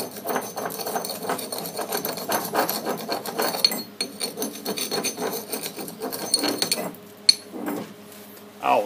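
Flux slag being chipped and scraped off a fresh weld laid with low-hydrogen rods, a steady rasping, scratching clatter close up with a couple of sharp metallic ticks, continuing for several seconds.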